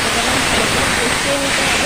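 A dense, even sizzle of curry frying in a pan fills the whole moment, loud and close with no break.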